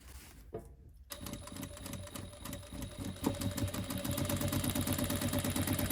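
Sewing machine stitching through a fabric make-up pouch, a fast steady run of needle clatter that starts after a brief pause and keeps going close and loud with no talk.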